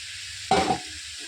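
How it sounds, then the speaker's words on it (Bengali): Shrimp hit a hot pan with cabbage and burst into a sudden loud sizzle that fades to a softer crackle within a fraction of a second. "তো দেখো এবার চিংড়ি মাছটা দিয়ে দিলাম।"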